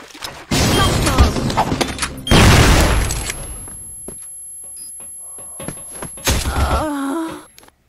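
Two heavy, booming blasts go off about two seconds apart in the video game CrossFire, each a loud burst with a rumbling tail, followed by a few fainter thuds and clicks.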